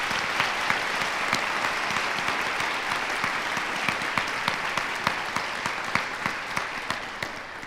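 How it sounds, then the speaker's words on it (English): Sustained applause from an audience at a university nursing pinning ceremony, steady clapping with some sharper individual claps, filling the room without any talk. "Let's give Sean and team an applause."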